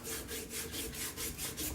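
Rhythmic back-and-forth scraping of abrasive on the wood of an antique brace, sanded by hand, steady strokes repeating about five times, close and fairly quiet.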